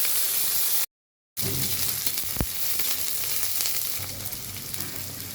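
Dried red chillies and black cumin seeds frying in hot oil, a loud steady sizzle with crackling, briefly cut to silence near the start before the hiss resumes and continues.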